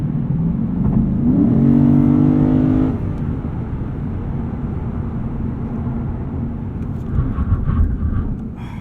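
A 2019 Lexus RC F's 5-liter V8 in sport mode, heard from inside the car, revs up in a loud rising climb that peaks after a couple of seconds, then settles into a steady droning cruise.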